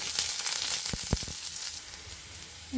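Onion, garlic, ginger and chilli frying in ghee for leftover-rice fried rice, with a steady close sizzle and a few sharp crackles and spatters near the start, then a softer continuous hiss.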